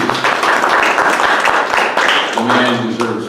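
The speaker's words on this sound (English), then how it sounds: "The man deserves applause." An audience at a community police-relations forum breaks into applause, a dense, fairly loud run of clapping with voices talking through it.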